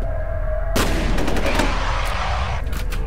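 Shotgun blasts in the shooter game F.E.A.R., one loud sharp boom followed by a cluster of further bursts and rumbling reverberation, close and dominant.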